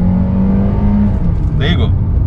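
Engine of a 2020 Hyundai Creta with a DCT automatic gearbox accelerating, heard from inside the cabin: a loud steady drone that drops in pitch as the transmission shifts up a gear.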